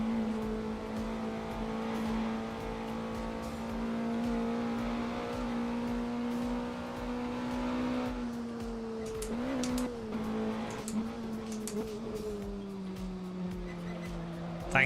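Caterham sports car engine in a VR sim racing game, a steady buzzing drone that holds its pitch, dips briefly as if shifting or lifting, then settles lower, with faint background noise.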